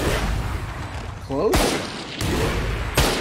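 Video game gunfire comes as loud, close bursts of shots and booms, with a voice briefly talking between the shots.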